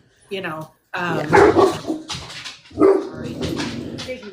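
A puppy gives several high, short yips and barks close by, overlapping with people talking.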